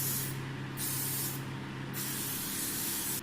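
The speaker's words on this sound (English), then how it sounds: "all you have to do is spray with a little bit of hairspray" Hairspray misted onto cooled curled hair, heard as three close, steady hissing aerosol bursts separated by short pauses, alone in a quiet room.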